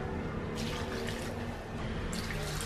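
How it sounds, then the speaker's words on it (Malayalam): Water poured into a bowl to rinse salted bitter gourd, a soft close splashing and trickling with a couple of brief louder pours, fairly quiet overall. "ലേശം വെള്ളം ഒഴിച്ചും ഒന്ന് കഴുകുക"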